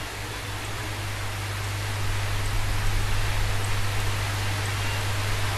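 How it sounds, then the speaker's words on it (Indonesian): Rain falls steadily outdoors as a dense, broad hiss that holds level throughout, with a low hum underneath and no voices. "ini kondisi cuaca sedang hujan"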